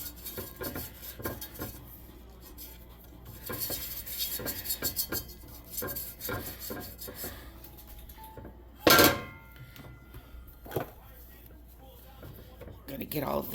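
Flour roux for macaroni and cheese being stirred and cooked in a pot, a utensil scraping and clinking against the pot almost without pause, with one louder clank. A person talks over the stirring.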